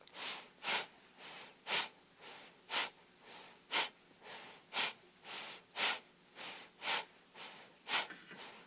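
Quick, rhythmic breathing during a yoga exercise with crossing legs, short sharp breaths repeating steadily about once per second, close but fairly quiet with no talk.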